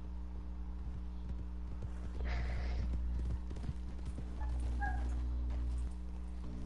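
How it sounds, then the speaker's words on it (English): Horse hooves clip-clop steadily in Red Dead Online, a moderately close in-game horse with a low engine-like drone and faint background sounds beneath. "See, my horse is right here."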